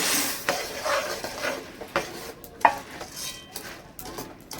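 Bonde are stirred in thick sugar syrup in a pan with a utensil, producing a soft continuous sizzle broken by irregular scrapes and clinks, one sharper knock standing out.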